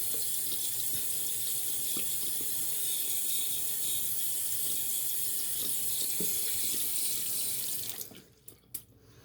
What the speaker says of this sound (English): Get the brush nice and wet.